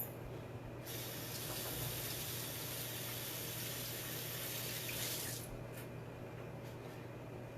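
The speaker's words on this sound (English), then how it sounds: "Let me wash my hands." Hands washed under a running kitchen tap, a steady rushing hiss of water that starts abruptly and stops about five seconds later, soft and close, with no one speaking.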